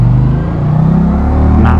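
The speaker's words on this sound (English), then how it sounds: "This Challenger, this 108 motor, man, this thing moves." An Indian Challenger bagger motorcycle with a 108 engine accelerates, giving a loud, steady, deep rumble that builds in intensity throughout.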